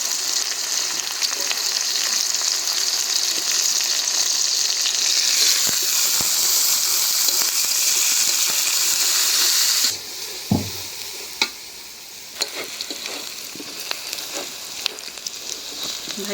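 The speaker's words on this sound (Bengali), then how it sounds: "ভাজা নিলাম রসুন, পেঁয়াজ, মরিচ।" Garlic, onion and green chilies fry in hot oil with a loud, dense sizzle. About two-thirds of the way through it suddenly drops to a quieter crackle, punctuated by scraping and tapping from stirring. No talk.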